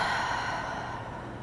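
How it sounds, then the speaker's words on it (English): Deep exhaled breathing at the close of a creativity yoga flow, standing in mountain pose: one long, soft, airy sigh-like breath out, close and steady, fading slightly toward the end with no talking. "Taking a couple deep breaths."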